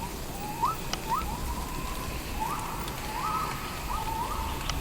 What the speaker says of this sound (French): Des oiseaux.